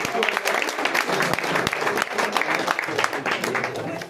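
Steady, dense applause from a crowd at a carrom tournament prize distribution, continuous and fairly loud throughout, with a few voices mixed into the clapping.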